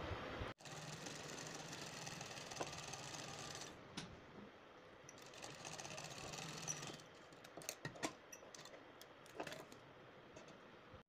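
A sewing machine runs in steady bursts while stitching a pocket on palazzo pants, its close, even whirr pausing briefly between runs, followed by short clicks and fabric handling.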